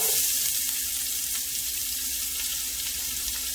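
Onion sizzles steadily in a hot pan for chicken corn chowder, giving off a close, even hiss of frying with no pauses and no voices.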